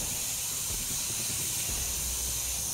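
An airbrush sprays paint onto a skull model, a steady close hiss of air held evenly throughout with a faint low background.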